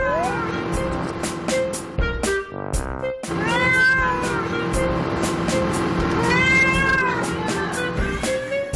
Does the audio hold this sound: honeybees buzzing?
no